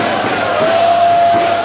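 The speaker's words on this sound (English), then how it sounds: "the Singaporean crowd showing their admiration and respect for this international superstar" A Singaporean crowd at a wrestling match cheers and roars in a loud, dense, continuous wall of voices, with a sustained whistle-like tone running through the noise.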